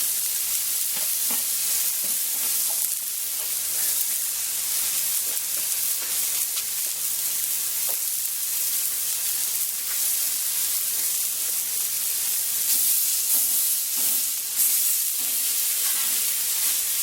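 Hamburger patties sizzle steadily on a Blackstone flat top griddle, a loud continuous frying hiss with occasional scrapes and crackles, no talking.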